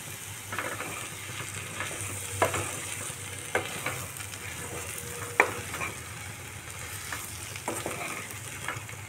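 Potatoes, pointed gourd and fried paneer frying together in a pan, a steady low sizzle broken by scattered clicks and scrapes of stirring, with no talking.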